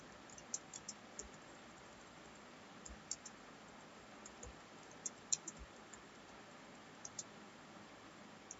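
Faint, sparse clicks of someone typing an HTML program into Notepad on a computer keyboard, irregular single keystrokes scattered over a quiet, hissy background with no talk.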